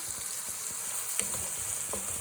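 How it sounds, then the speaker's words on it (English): Ground meat sizzles steadily in a hot pan while being stirred, a constant quiet frying hiss with a few soft scraping clicks, no voices. "So we'll stir this."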